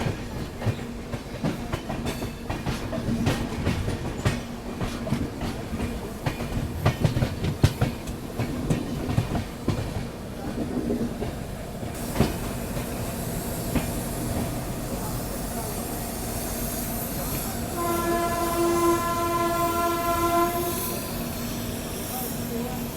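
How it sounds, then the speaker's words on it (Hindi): The Subedarganj Dehradun Express rolls into Moradabad Junction, with rhythmic wheel clatter and rumbling carriages that later settle into a steady hiss and a sustained horn-like tone near the end, all fairly faint. "चंदौसी के बाद अपना अराइवल हो रहा है मुरादाबाद जंक्शन रेलवे स्टेशन पे"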